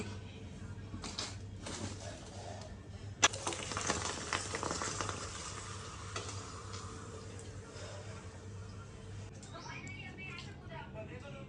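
Oil sizzles and bubbles steadily in a pan as potato wafers fry, with a louder burst of frying partway through and faint clattering now and then.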